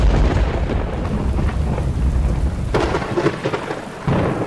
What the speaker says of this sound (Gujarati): ઉત્તર ભારતમાં મુશળધાર પ્રહાર।